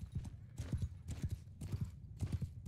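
Horses galloping in the video game Mount & Blade II: Bannerlord, rhythmic clusters of thudding hoofbeats repeating about twice a second, close and steady.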